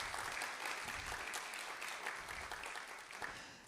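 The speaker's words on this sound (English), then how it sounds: "please give her a round of applause" Applause from a lecture-hall audience honoring a public radio station manager, a dense steady patter of many hands that stays fairly quiet and distant before tapering off at the end.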